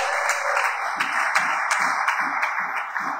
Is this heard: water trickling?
no